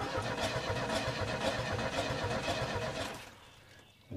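An old Chevy S10 pickup engine is cranked by its starter in a steady, rhythmic churning that lasts about three seconds and then cuts off without the engine catching, heard up close.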